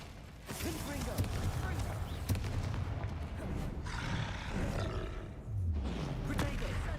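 Combat in Hogwarts Legacy against an angry troll, with deep roars and grunts mixed with sharp spell blasts and impacts, a continuous loud battle din with voices calling out spells.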